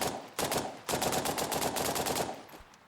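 Sustained machine gun bursts from a modded weapon in the video game Arma Reforger, loud and rapid, with a brief pause after the opening burst and then a long continuous string of shots that trails off at the end.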